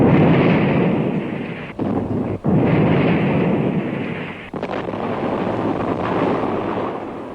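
Explosions as Marines and sailors blow up abandoned Turkish guns and wreck emplacements ashore, a loud sustained roar of blasts and rumble with a few brief dropouts, no talk.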